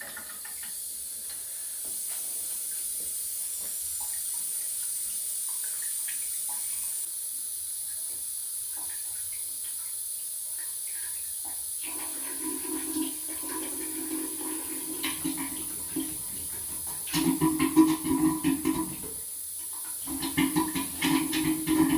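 Water rushing and hissing through a boiler heating zone pipe during purging, a steady broadband flow that grows louder and more turbulent with gurgling surges toward the end.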